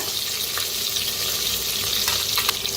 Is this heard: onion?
yes